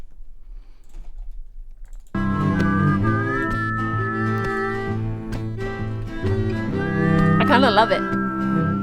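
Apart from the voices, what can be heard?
whistle being played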